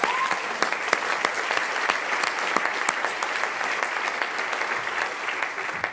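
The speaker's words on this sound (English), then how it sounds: "Will you please join me in applauding Joachim for his wonderful work?" A theater audience breaks into sustained, even applause, many hands clapping densely and steadily at close range, with no speech over it.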